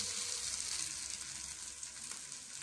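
Small Mangalore-style tikka pieces fry on a tawa over a low flame, making a soft, even sizzle that continues steadily and fairly faintly throughout.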